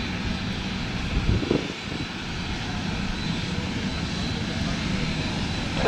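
Steady broadband roar of an aircraft engine during a landing at Minneapolis airport, a continuous loud rumble with a faint radio voice underneath.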